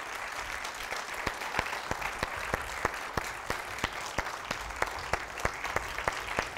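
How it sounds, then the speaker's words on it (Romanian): A studio audience on the Romanian television show Garantat 100% with Tora Vasilescu applauds steadily, with distinct claps falling in an even, rhythmic beat over a dense bed of clapping and no talk. "să vă aplaude oamenii ăștia în liniște"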